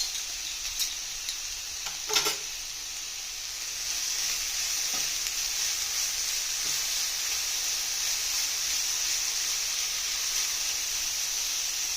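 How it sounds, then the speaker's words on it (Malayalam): Crushed ingredients fry in hot coconut oil for a pumpkin thoran, giving a steady close sizzle and hiss throughout, with a few sharp spoon-against-pan clicks from stirring early on. "അതിൻ്റെ പച്ചമണം മാറുന്ന വരെ ഒന്ന് ഇളക്കി കൊടുത്തോണ്ടിരിക്കാം."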